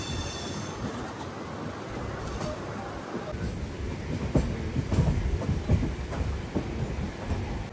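A MEMU train on the Rajahmundry–Vijayawada route rolls along with loud rumbling, rattling carriages and rhythmic wheel clatter that builds in intensity midway, heard from inside the coach.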